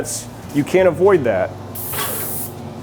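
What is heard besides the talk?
spray gun painting kitchen cabinet door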